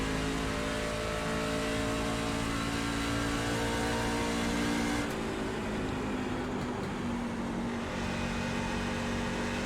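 NASCAR Class C fixed-series truck at Nashville in a racing sim, its engine droning at steady high revs before the pitch shifts and settles partway through, loud and close with no talk.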